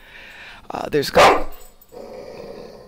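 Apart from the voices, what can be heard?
big dog barking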